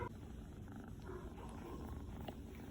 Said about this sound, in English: You just purring away